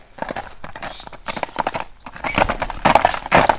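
Kyrgyz-bred horse in Jalal-Abad moving on its hooves, irregular clopping footfalls close by, growing louder and denser toward the end, with no talk over it.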